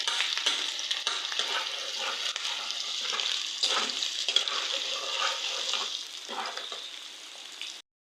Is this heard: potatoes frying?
yes